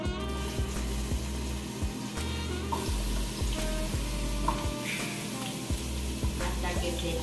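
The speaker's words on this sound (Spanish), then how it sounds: "Hasta que se fría, se acitrone bien la cebolla" Chopped onion frying in oil in a preheated pan, a continuous dense sizzle with faint clinks and a low rhythmic hum running underneath.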